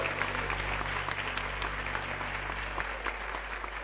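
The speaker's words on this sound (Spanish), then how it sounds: "Fuerte el aplauso, miren qué lindo que están." Applause for the bride and groom at a church wedding, a steady round of clapping from the congregation with a low hum underneath, moderately distant and continuing throughout.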